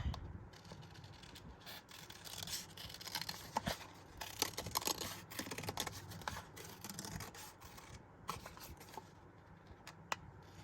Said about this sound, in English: Then we're going to go ahead and we're going to cut this circle out.